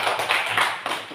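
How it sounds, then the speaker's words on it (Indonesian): A group of children or church class members clapping hands together in a room, a short dense burst of claps that stays even and close for about a second. "Terima kasih kelompok 3, tepuk tangan"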